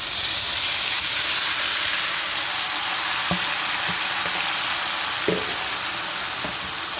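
Ingredients sizzle in hot oil for chicken achar gosht, a steady broadband frying hiss throughout with a few brief clinks and stirring knocks, close and fairly loud, with no talk.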